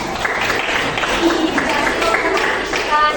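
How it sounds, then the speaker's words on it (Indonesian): Students in a classroom give applause to classmates who just presented, a steady rattle of many hands clapping close by, with voices murmuring underneath. "tepuk tangan dulu dong buat teman-temannya"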